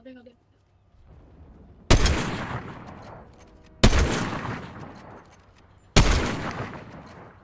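Three loud sniper rifle shots in the video game Fortnite, evenly spaced about two seconds apart, each a sharp crack followed by a long rolling echo that fades out.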